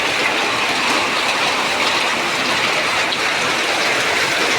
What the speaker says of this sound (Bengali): রমজান শেষ মুহূর্তে বৃষ্টি হইতেছে, টিনের উপরে পড়তেছে, কি আওয়াজ।